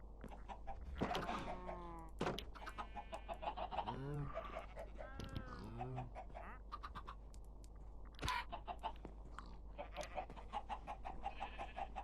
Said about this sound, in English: These little chickens are starting to get a bit annoying